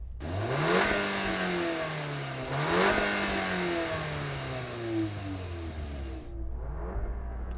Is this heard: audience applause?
no